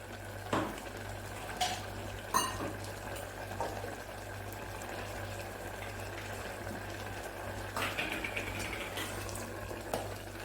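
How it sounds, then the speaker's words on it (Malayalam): Water is poured into a pot of simmering coconut vegetable curry, a steady liquid rush with a low hum and a few clinks of a utensil against the pan, close and moderately loud. "കുറച്ചും കൂടി വെള്ളം ഒഴിച്ചു കൊടുക്കാം."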